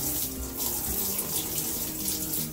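Cold tap water runs steadily into a sink to rinse a fabric mermaid tail after a chlorinated swim, a close continuous splashing rush with no voices.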